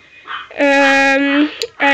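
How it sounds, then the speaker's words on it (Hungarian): A pet dog yelps and barks in the background of an indoor room: one long, whining yelp, then a short, sharp bark, fairly close and loud. "ugat a kutyám a háttérben."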